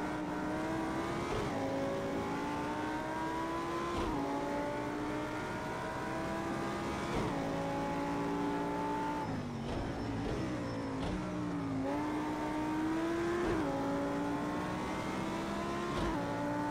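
Audi R8 road car engine racing around Bathurst in the Project CARS 2 video game, a steady loud revving note that climbs through the gears with repeated shift drops and swells, with no voices over it.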